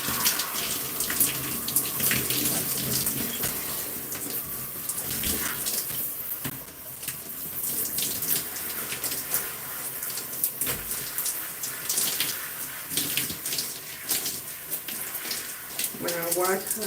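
Water pours steadily from a tap while shampoo is rinsed out of natural hair during a wash day, a continuous close hissing splash that runs the whole time with occasional shifts as the flow hits the head.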